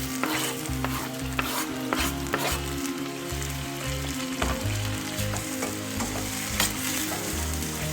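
Tomatoes tossed into light brown onions frying in a pan for dal fry, producing a steady, close sizzle with repeated rhythmic stirring scrapes throughout.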